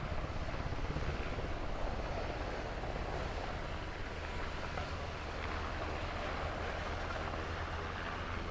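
Blackhawk helicopter during a military field training exercise, a steady loud rotor and engine roar filling the whole stretch with no break or voices.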